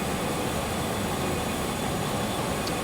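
An airplane engine drones in flight in the HeadTrip Air World Tour video game, a loud, unbroken, steady roar that fills the whole stretch with no other sounds.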